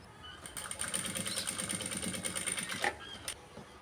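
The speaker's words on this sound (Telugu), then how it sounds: "ఇలా కుట్టుకోవాలి." A sewing machine runs in a steady whirring stitch as saree cloth frills are sewn, the motor buzzing continuously for several seconds with a brief pause near the end, close and fairly loud with no talk.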